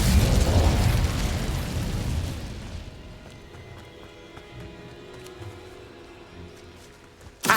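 An Incendio fire spell cast in Hogwarts Legacy gives a loud whooshing burst of flame that fades into a lower crackling rumble, followed by a sharp pop at the very end.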